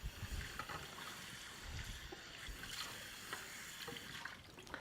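Running water rinses a part of a ViDiA centrifugal juicer, giving a steady, fairly faint splashing rush with small gurgles throughout.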